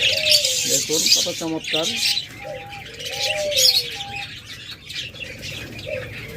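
Captive budgerigars offered for sale chirp and tweet in a busy, bright chatter, with short warbling runs and a few cooing notes underneath, while someone speaks briefly over the birds.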